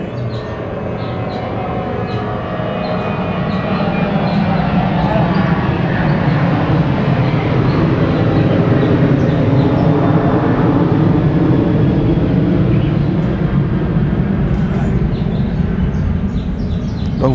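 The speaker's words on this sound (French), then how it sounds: "on va laisser passer cet avion-là." An airplane passes overhead as a broad, loud jet roar that swells and holds steady over the whole stretch, with a voice faintly present beneath it.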